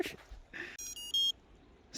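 Electronics on a water-damaged FPV drone emit a short series of high, tonal beeps in quick succession, with a couple of faint handling noises before and after.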